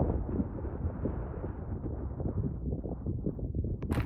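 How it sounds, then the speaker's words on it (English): Strong wind gusts buffet the microphone at a New Zealand lookout, producing a steady, loud, low rumbling roar that fills the whole stretch, with no one speaking. "It just got really windy all of a sudden."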